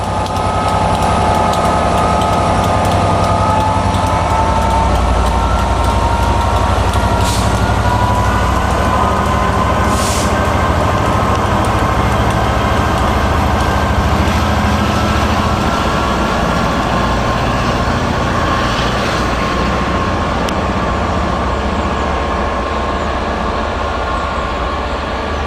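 A British diesel locomotive pulls away from Warwick with a Marylebone-bound passenger train in March 2013, its engine a loud, steady, broadband roar that holds close throughout with no speech.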